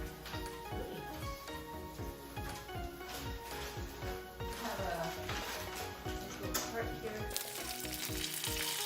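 Salmon frying in a pan, a loud steady sizzle with bursts of crackling spatter and the scrape and tap of tongs close up.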